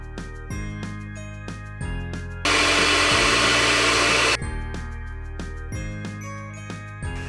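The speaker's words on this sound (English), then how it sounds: "reduce the speed of the hand mixer and gradually add the rum" A hand mixer runs at reduced speed through cake batter as rum is added, a loud, steady whirring that lasts about two seconds between stretches of light background music with chiming notes.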